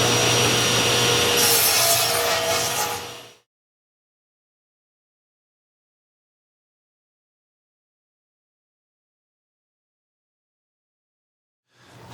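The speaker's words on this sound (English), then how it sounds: "I'm quite comfortable using the radial arm saw because of these type of blades" A radial arm saw with a through-fence dust collection system cuts wood in a workshop, a loud broadband whine and rasp for about three seconds, then sudden silence before the machine noise returns right at the end.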